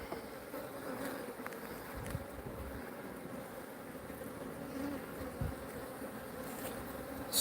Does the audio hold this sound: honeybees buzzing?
yes